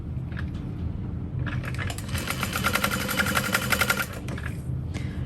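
Sewing machine top stitching along folded fabric edges, a steady fast mechanical whir that starts after brief handling noises, runs for a few seconds and then stops, with no voices.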